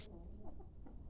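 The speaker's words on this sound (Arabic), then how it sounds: "هذا الديك التركي." Chickens and roosters in a poultry yard, with a few soft clucks over a low, faint background in a brief moment.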